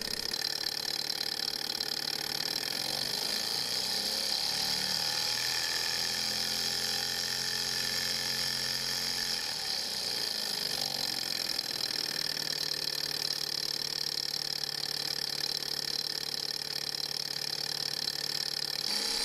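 A small Stirling engine runs continuously with a fast mechanical whir and a steady high whine, its pitch shifting slightly partway through, with no voices over it.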